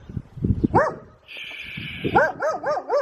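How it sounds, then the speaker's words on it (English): A dog near an old church in Switzerland barks repeatedly at close range in quick bursts, with a brief whine between them and low voices early on. "There's a dog over there who's not actually happy to see us."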